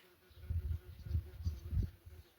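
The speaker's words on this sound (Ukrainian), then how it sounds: "Бджоли і оси вже тут." Bees and wasps buzzing close by, a low droning hum that swells and fades in several passes, loudest in a few short bursts.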